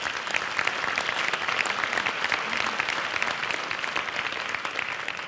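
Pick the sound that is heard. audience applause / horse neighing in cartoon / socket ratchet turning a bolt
audience applause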